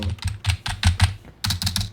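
A computer keyboard being typed on during a Call of Duty: Black Ops 6 session, loud and close to the microphone, with quick bursts of clacking keystrokes separated by short pauses.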